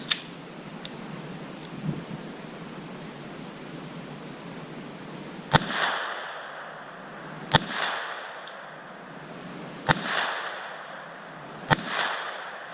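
Shots from a .22 pistol, a Ruger SR22 or Smith and Wesson Victory, fired at an outdoor range: four sharp, loud cracks spaced about two seconds apart, each with a short ringing tail over faint background noise.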